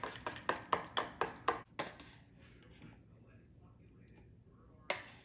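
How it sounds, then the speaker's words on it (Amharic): Bananas being mashed with a fork for an Ethiopian banana cake, giving a quick run of sharp, regular taps against a bowl, then a quieter stretch of soft squashing and one more tap near the end. "ከዛን እንደዚህ እንፈጨዋለን በሹካ መጀመሪያ።"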